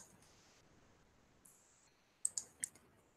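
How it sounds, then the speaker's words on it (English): Computer mouse clicks while running MODFLOW groundwater modelling software: three sharp, close clicks in quick succession over a quiet background, after some faint soft tones. "Now we click OK."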